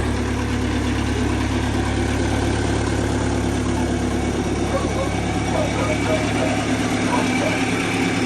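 A tractor engine idles at a steady, loud, close drone with a deep low rumble throughout, and no clear start is heard. Someone talks over it.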